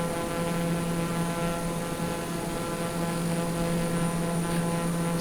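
TBM turboprop airplane engine in Microsoft Flight Simulator, a steady, even propeller drone and turbine hum that holds constant and fills the whole stretch without talk.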